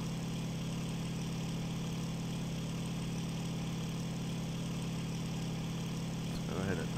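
A World War II-era aircraft engine drones steadily in the IL-2 1946 flight game, a constant close hum with no change in pitch, and a brief murmur near the end.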